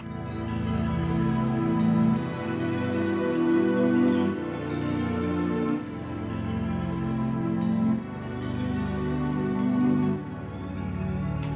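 A warm synth pad sustains lush chords that shift every two seconds or so through a multi-chord progression, smooth and steady at moderate loudness, with no voices.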